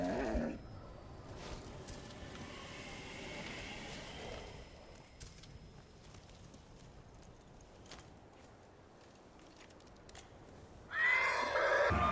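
Horse neighing in the video game Ghost of Tsushima, a moderately loud whinny over ambient game sound, with a sharper, louder burst near the end.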